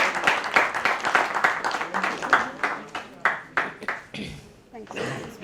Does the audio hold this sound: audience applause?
yes